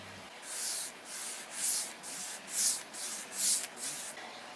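A cloth rubs a protective sheen off a new kitchen cabinet surface in a mobile home, five or six rhythmic, hissing back-and-forth strokes, close and even.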